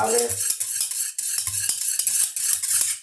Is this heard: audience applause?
no